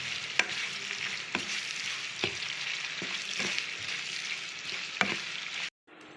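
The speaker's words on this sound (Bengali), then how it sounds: "কাঁচামরিচ পেঁয়াজ কুচি দিয়ে দেবো, পেঁয়াজ লাল করে ভেজে নেব" Chopped onions and green chillies fry with cinnamon and cardamom in hot oil for a chicken curry, a steady close sizzle broken by several sharp spatula scrapes against the pan before it cuts out abruptly, with no talking.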